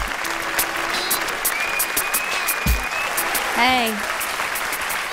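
Audience applause greets a poet, a Homer, Alaska native, at a Def Poetry stage show; steady clapping fills the hall throughout, with a brief shout and some whoops over it.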